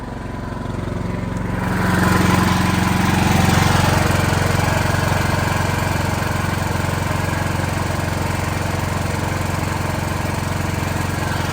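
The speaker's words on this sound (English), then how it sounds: "I think it's good for the engine to run every once in a while, get up to temperature." A backup generator engine drones on at an even pitch, loud and close, running without pause or change in load, under little load.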